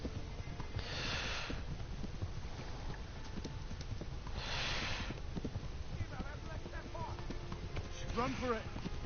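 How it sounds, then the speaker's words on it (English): Horse galloping in the Kingdom Come: Deliverance video game, rhythmic hoofbeats under bursts of heavy snorting breaths from the tiring animal, with chirping wildlife in the background. "I can't keep galloping. The horse was giving out on me."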